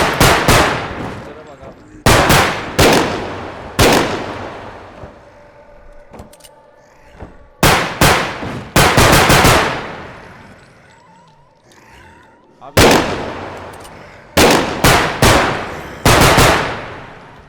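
A rifle fires in a zombie shooter game, its loud, close shots coming in separate clusters with quiet pauses between them, while fainter thuds and clatter sound in the gaps.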